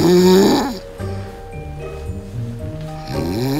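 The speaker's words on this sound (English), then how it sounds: "Over the last 2 to 3 years, my snoring has become unbelievable." A woman snoring loudly and close, with a harsh, rattling inhaled snore at the start and another building at the end, separated by a quieter breathing stretch.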